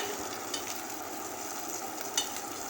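Chopped green chili with crushed ginger fries in a pan, giving a steady, moderate hiss of sizzling oil with a couple of faint stirring scrapes.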